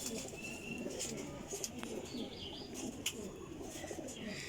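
Baby pigeons coo softly amid faint chirps and light rustling, the calls quiet and intermittent over a low background hum.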